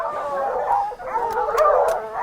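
Hunting dog on a South African safari barking, yelping and howling close by, a continuous agitated run of canine cries with a few sharp bursts near the end.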